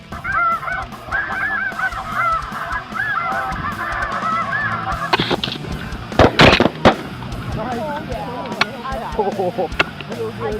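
Snow geese honk overhead during an Arkansas hunt, a dense crowd of yelping calls with sharp bangs and a burst of loud cracks in the middle.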